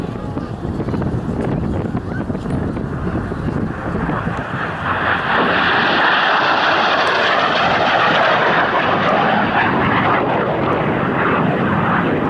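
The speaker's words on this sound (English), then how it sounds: "listen to the sound of this GE jet" Loud roaring General Electric jet engine of an F-86 Sabre sweeping past at an air show demo, without afterburner, a broad sustained whoosh that swells and holds for several seconds.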